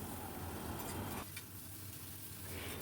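Bitter gourd and eggplant sizzling as they are stirred in a frying pan over a medium gas flame, a steady hot crackle with scraping strokes, briefly quieter midway before the sizzle picks up again.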